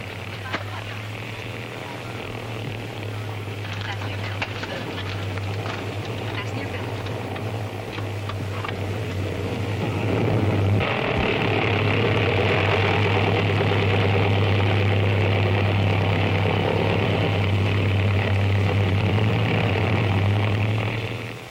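A propeller airplane engine drones steadily in flight, a constant low hum that grows louder and fuller about halfway through before cutting off at the end.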